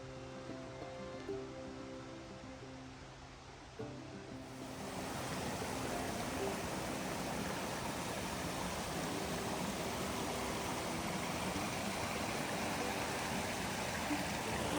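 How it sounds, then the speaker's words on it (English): Steady rushing water from a creek at Granite Creek Camp on the Wonderland Trail flows continuously, quiet music fading out early before the broadband flow swells and holds. "The creek is right down there."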